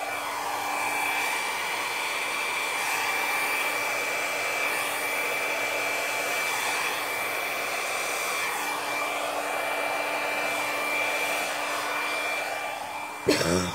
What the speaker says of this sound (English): That's my hairdryer.